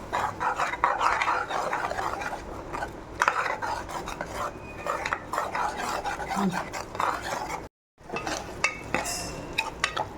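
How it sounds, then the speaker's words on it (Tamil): Crab masala of onion, tomato, garlic and ginger sautéed in oil until the oil separates, heard as a close, busy run of scraping and clinking spatula strokes against the pan over a low fry, pausing briefly near the end. "நல்லா எண்ணெய் பிரிஞ்சு வர அளவுக்கு வதக்கும், பச்சை வாசனை போகிற அளவுக்கு"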